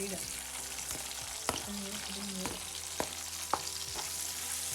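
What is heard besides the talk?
chopped capsicum and onion added to a pan and frying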